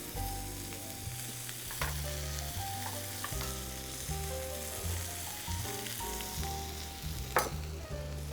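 Mushrooms frying in butter in a pan, a continuous close sizzle with occasional stirring knocks over a layer of background music.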